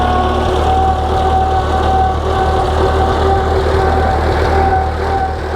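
An old tractor engine idles steadily after the choke is pulled, a loud, close, even low chugging with a faint periodic knock throughout.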